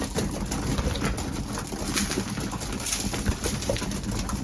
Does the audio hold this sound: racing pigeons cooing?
yes